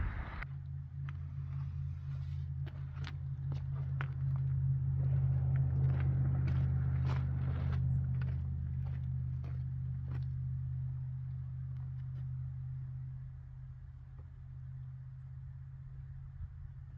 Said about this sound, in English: I'm near a bridge, so I'm hearing traffic